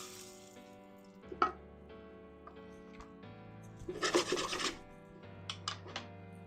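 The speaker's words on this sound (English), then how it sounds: "Before we add anything else, we need to toast the rice." Dry rice is stirred and toasted in a pan over high heat for Mexican rice, giving gritty rasping scrapes in short bursts with a longer dense stretch midway, under soft background music.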